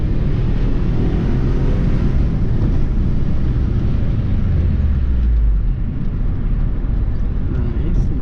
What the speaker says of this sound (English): Is a second gear pull.